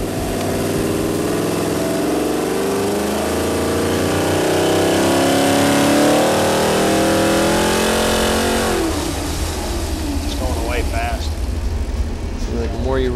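A Chevy LQ4 V8 with a bigger intake, cam and rocker arms revs hard on a dyno, a loud sustained roar that climbs and then drops away into fluttering revs near the end.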